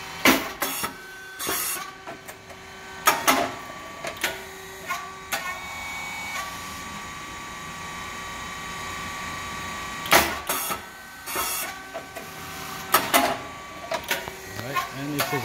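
The motor of a SYP9002 rice cake machine drives repeated loud mechanical bursts in an uneven rhythm, with a quieter humming stretch in the middle before the cycling resumes.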